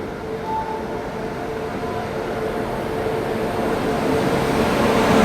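Duronto Express train rolling into Madgaon junction on Konkan Railway, a steady rumbling roar of wheels and coaches that swells gradually as it nears, with a faint high whine running through it.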